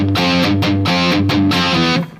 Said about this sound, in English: dial up the sound with full distortion, either a pedal or an amp that's got distortion on it